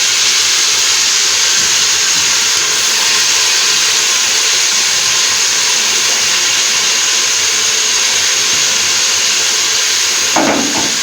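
Beef hits hot fried masala in oil and sizzles in a loud, steady hiss that holds evenly throughout, with a brief clatter near the end.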